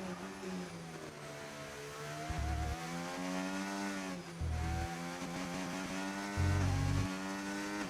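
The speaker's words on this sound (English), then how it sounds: "As you hear the engine" Race car engine in a racing video game at Spa Francorchamps, droning steadily with rising and falling pitch and three brief surges of louder revving, close and continuous with no talk.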